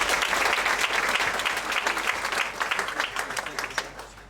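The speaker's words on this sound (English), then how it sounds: "please give a big applause to Andrea Featherstone" An audience at a Pecha Kucha event in Ubud, Bali claps steadily, a dense wash of applause that gradually thins out toward the end.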